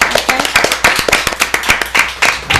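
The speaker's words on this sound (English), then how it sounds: "Can you give yourself a round of applause?" A small audience claps in a quick, uneven patter of distinct hand claps, close and fairly loud, individual slaps audible rather than a blended roar.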